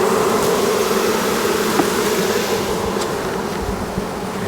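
Bees in a hive with an added deep box, crowded with bees, a loud, steady droning buzz that holds close and continuous throughout, with no talk.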